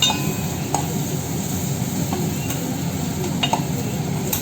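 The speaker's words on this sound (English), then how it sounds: "After this, I will mix it very well." A spoon stirs diced potatoes and green peas for aloo matar in a pan, a steady scraping swirl over a low sizzle, with occasional clinks of the utensil against the metal rim.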